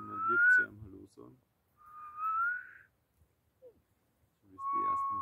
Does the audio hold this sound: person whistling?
yes